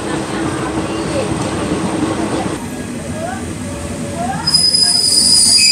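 A train rumbles into Chonburi station with its wheels squealing, a sustained high metallic screech rising near the end over steady rolling noise.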